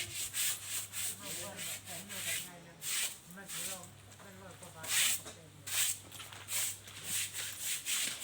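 An elephant's tail is scrubbed during a morning bath, giving repeated rough, bristly rubbing strokes in bursts, close by, with a low hum beneath and someone talking over parts of it.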